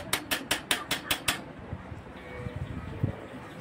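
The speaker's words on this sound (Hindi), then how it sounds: "नीचे से हथौड़ा और ऊपर से एक हथौड़ा से ठोक रहे हैं" Hammer strikes driving a cotter pin into a bicycle bottom bracket: about seven sharp, evenly spaced metallic blows close by, followed by softer scattered knocks and tapping.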